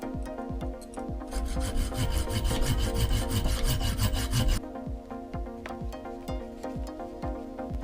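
Rasping, back-and-forth strokes cut a slot into a small stainless Allen head grub screw, a steady burst of cutting for about three seconds followed by a few lighter scrapes.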